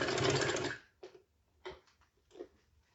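Domestic sewing machine stitching the collar of an umbrella-style designer frock: a loud continuous run of rapid stitching for under a second, then three short separate bursts with quiet gaps between them.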